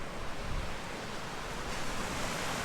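Ocean waves wash steadily onto a deserted Australian beach, a continuous broadband roar of surf with gentle swells, fairly close and unbroken by any voices.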